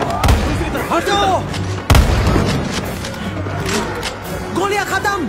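Sharp gunshot bangs from a scene in the film Maze Runner: The Death Cure (Hindi dub), two loud cracks standing out amid continuous shouting voices and a dense, chaotic background.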